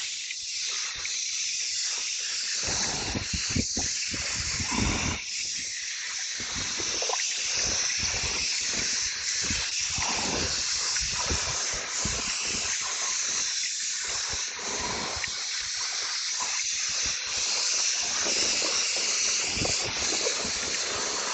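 Pressure-washer water spraying over a car during a wash, a steady loud hiss that runs almost without break, rising and dipping slightly as the spray moves across the body panels.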